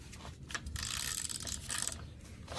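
A 3/4 socket wrench ratcheting as it loosens the spark plug on an Echo SRM-225 string trimmer, a close rapid clicking run of pawl ticks in short bursts, with no speech.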